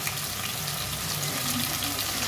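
Chopped, washed pumpkin greens go into a hot pan with cooking potatoes, giving a steady, even wet hiss and sizzle that holds at a moderate level throughout with no voices.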